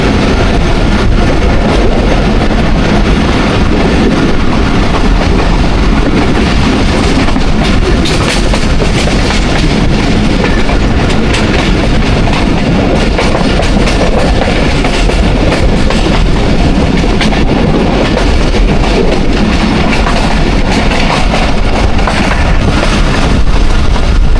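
Thall Express passenger train rolling along the rails in daytime, a steady loud rumble with rhythmic clickety-clack from the wagons throughout, heard from on board.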